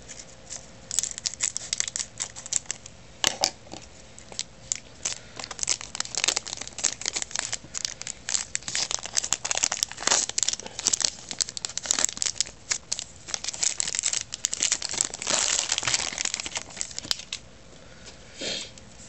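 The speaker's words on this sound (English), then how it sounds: "so I have to open it by scissors" Scissors snip and crinkle through the plastic wrap on a Hecatomb TCG Last Hallow's Eve booster box, a near, dense run of crackling cuts and rustles lasting throughout, with no talking.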